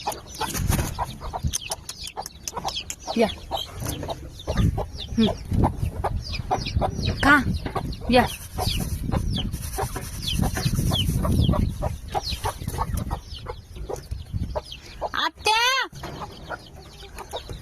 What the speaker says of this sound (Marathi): आणि हे बघा आमची एक कोंबडी आहे, आम्हाला ना पिल्लं देते.